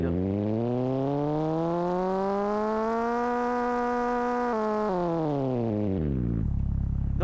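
Video-game car engine with a synthetic, harmonic-rich drone, rising steadily as revs climb, holding, then falling in steps as if through gear changes before settling to a low idle; loud and continuous with no talking.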